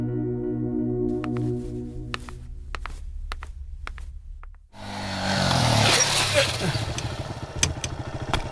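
A motorbike rides past amid film background music, its engine surging loudly and close for the second half, with rumbling and a rising roar after a quieter musical opening.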